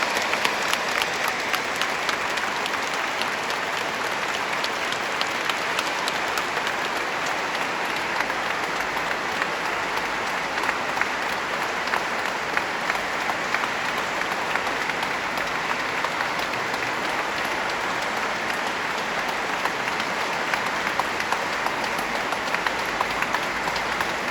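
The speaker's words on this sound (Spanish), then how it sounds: "démosle un aplauso para levantar nuestro ánimo y nuestra esperanza" Congregation at a Catholic service for peace on the feast of Christ the King applauding, a dense, sustained wash of many hands clapping at an even level throughout, with no talk over it.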